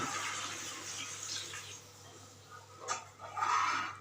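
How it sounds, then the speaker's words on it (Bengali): Water poured into a pan of mixed winter vegetables, a soft continuous rush of running liquid with a brief splash and gurgle toward the end, fairly quiet. "এবার দিয়ে দেব জল"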